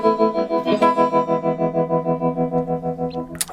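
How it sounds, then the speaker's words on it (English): Guitar chord through an amplifier's tremolo effect at slower speed, volume pulsing in an even, regular throb about seven times a second, sustained loud and alone before fading at the end. "You slow it down. And it's still got a nice chewy, strong effect there even at the slower speed"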